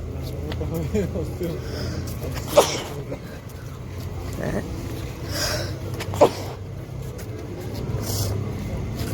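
A single sharp sneeze bursts out over steady background talk and traffic rumble, followed a few seconds later by a second similar burst.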